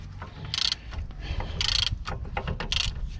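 A ratchet backs out Torx bolts from the brake caliper carrier on a Peugeot 407: bursts of rapid clicking from the pawl, three clear runs plus scattered ticks over low mechanical rumble, close to the microphone.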